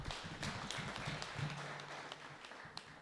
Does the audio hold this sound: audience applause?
yes